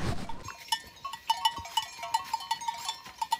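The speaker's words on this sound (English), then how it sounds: "I can hear the little bells all jingling." Small bells on grazing sheep clink and jingle irregularly, several at a time, with a clear ringing tone in an open outdoor setting.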